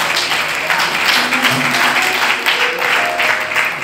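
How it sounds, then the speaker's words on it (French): A church congregation applauds and cheers in praise, a dense, loud wash of clapping with scattered shouts and raised voices throughout. "Est-ce que tu peux acclamer le Seigneur?"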